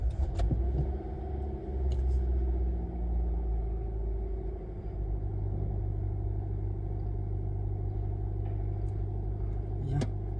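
A car's engine starts with a brief clatter and settles into a low rumbling idle, then hums steadily from inside the cabin as it pulls away, with a few small clicks and jingles.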